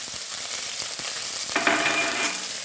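Garlic, green chillies and kanthari chillies frying in oil for a sadya pomegranate curry: a steady crackling sizzle close by, with light stirring clicks and a brief louder flare midway.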